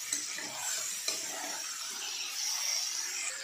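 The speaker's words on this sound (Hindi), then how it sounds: "चिकन हमारा भून रहा है। इसी तरह से हम दो दो मिनट तक खोल खोल कर चेक करेंगे और इसे अच्छे से मिक्स करते हुए चलाएंगे।" Chicken masala sizzles in a pan as a spatula stirs and scrapes through it, giving a continuous moderate frying hiss with a couple of sharper knocks.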